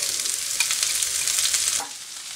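Chopped onions and cabbage sauté in a hot pan, a bright crackling sizzle with stirring scrapes that drops off sharply near the end.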